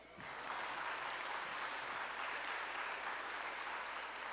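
Audience clapping at a church Sunday gathering, a dense, steady wash of many hands that swells quickly in the first half second and holds evenly, heard from a moderate distance without speech over it.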